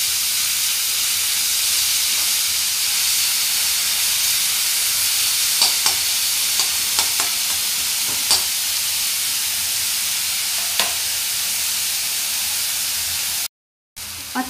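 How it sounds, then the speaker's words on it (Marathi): Onion frying in a pan for chicken kheema, a loud continuous hiss and sizzle with a few scattered clicks and spoon scrapes, a brief cut to silence near the end, no talking. "कांदा चांगला सोनेरी रंगाचा होईपर्यंत छान भाजून घ्यायचा आहे"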